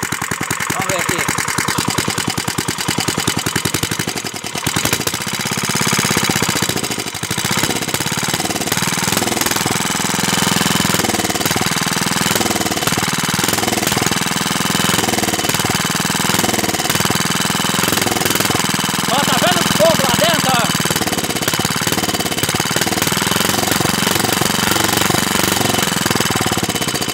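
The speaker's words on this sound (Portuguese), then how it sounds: "Olha o tanto que esse motor funciona com carburador de gasolina." A Montgomery engine fitted with a gasoline carburetor runs continuously and loudly with a harsh, rattling, jackhammer-like pulse. Someone talks over it throughout.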